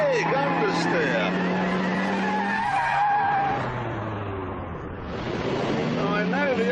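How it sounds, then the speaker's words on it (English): Lotus Elise 111S tyres skidding as the car understeers through a corner, a loud continuous screech with engine noise, swelling and fading over several seconds, alone without talk. "Oh, understeer. Big understeer."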